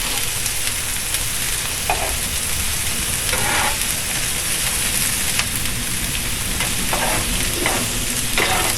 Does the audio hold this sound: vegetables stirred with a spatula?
yes